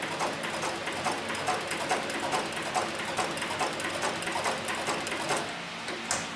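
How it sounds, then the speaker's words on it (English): A Cowboy industrial sewing machine stitches through material with a fast, steady mechanical chatter. It runs loud and close for several seconds and eases off briefly near the end. "this is where I first started sewing, so the stitching is relatively small"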